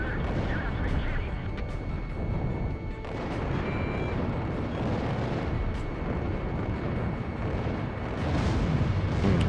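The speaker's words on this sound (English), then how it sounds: "You expect us to get through this anti-aircraft fire?" Continuous dense barrage of anti-aircraft fire in the Ace Combat Zero combat flight game, rapid popping bursts and booms layered over a constant roar, with a voice speaking over the din.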